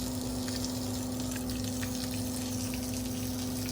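A pump circulates water through a Raptor 660 engine to rinse out lime, running as a continuous close hum with a steady tonal whine and a constant wash of flowing water, unbroken from start to finish.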